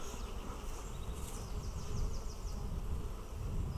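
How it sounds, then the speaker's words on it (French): A dense, steady buzzing of many honey bees around an open hive in spring fills the air close by, a continuous droning hum without pauses. "Beaucoup d'abeilles."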